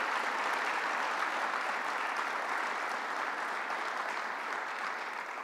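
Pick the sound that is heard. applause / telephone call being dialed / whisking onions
applause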